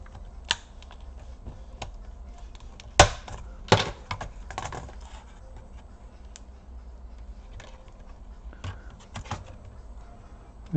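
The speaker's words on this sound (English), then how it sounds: "we can now lift the keyboard" Scattered plastic clicks, taps and soft rattles come from an HP EliteBook 2530p laptop keyboard being lifted out during disassembly, close and irregular over a quiet room.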